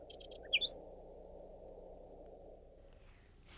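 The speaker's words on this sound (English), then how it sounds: "and a variety of unusual birds" A bird call on the tundra, set among unusual tundra birds, gives a few short, sharp calls near the start, then fades into a steady low background hiss.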